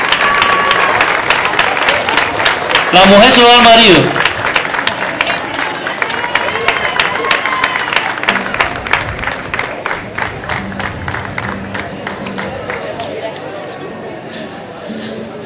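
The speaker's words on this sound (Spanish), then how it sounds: "Ese aplauso, por favor." Crowd applause at a cattle fair prize giving in Carrizal de Ingenio, a loud burst of clapping that thins into scattered claps while a voice speaks over it and chatter continues.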